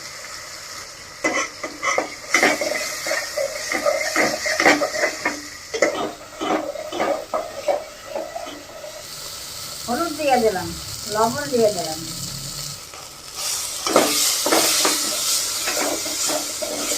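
Spice paste of onion, garlic, tomato, ginger and chilli with turmeric and salt frying in a pan for a Bengali egg curry, hissing and sizzling under spoon stirring and pot clatter, with someone speaking intermittently over it.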